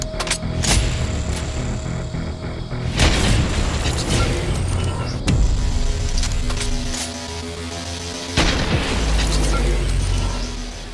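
Several heavy sniper rifle shots fired in the Fortnite video game, each a loud booming blast with a sharp onset, spaced a few seconds apart over a continuous bed of game music and ambience.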